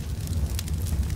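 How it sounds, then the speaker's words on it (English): A house fire burning, a dense close roar with crackling bursts and steady low rumble, brief and continuous. "The house is on fire!"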